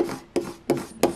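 A Cricut smoothing tool rubs a paper cut-out down onto a birthday card, making four short, close scraping strokes in a steady rhythm with no talking.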